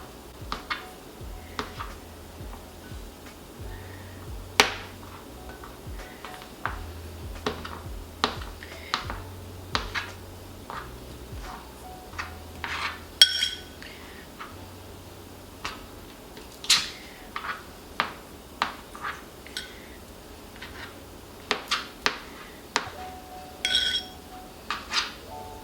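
Knife chopping a block of cold butter into cubes on a kitchen board, giving a run of sharp, light taps and clicks at irregular intervals, close and fairly quiet over a low steady background hum.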